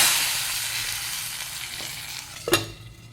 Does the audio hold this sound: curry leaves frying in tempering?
yes